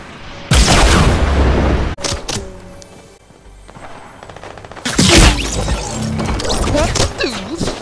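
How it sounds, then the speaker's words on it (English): A sniper shot striking the player in Fortnite during the final day of Season 7: a loud, sudden crash-like blast, then a quieter stretch and a second heavy impact burst, with game sounds clattering throughout. "I got sniped!"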